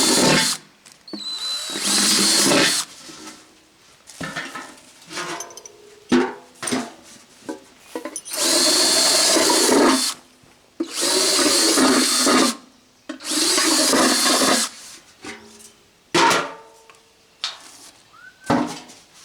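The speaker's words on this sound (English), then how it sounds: "I have to hit the drill on these." Power drill whirring in repeated bursts of a second or two, stopping and restarting, while tightening screws on a metal maple sap bucket being turned into a cemetery planter; loud and close, with clinks and handling noises between bursts.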